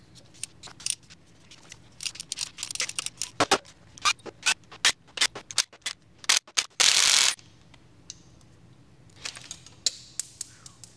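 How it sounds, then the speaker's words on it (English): Breaker bar working tight head bolts loose on a 1275 engine from a barn-find Sprite: a series of sharp metallic clicks and ratcheting snaps, close and fairly loud, with one longer grinding scrape midway and no talking. "These head bolts are pretty tight, so I'm going to break them loose with a breaker bar first."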